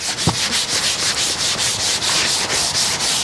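Scuffing paint with sandpaper on a car panel: steady rhythmic rubbing strokes, loud and close, repeating about four times a second with no voices.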